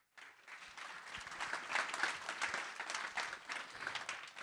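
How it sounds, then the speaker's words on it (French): Audience applause fills a conference keynote hall, a dense steady clapping that starts abruptly and holds at an even, fairly loud level from start to finish. "Vous pouvez vous applaudir. Applaudissez-vous."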